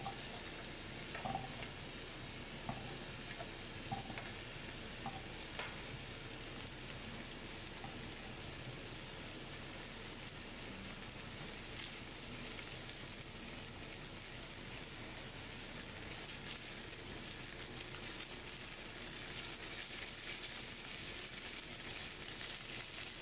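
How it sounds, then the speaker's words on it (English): Scallops and fava beans fry in a pan at a two-star Michelin restaurant kitchen, giving a steady, continuous sizzle and hiss throughout, with faint clicks and no talking. "Fry the scallops until they become a little bit brown."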